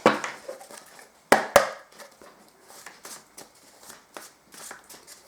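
Tarot cards are shuffled and cut at close range: quick riffling rustles, a couple of sharp slaps as the deck is cut, then softer flicking shuffles.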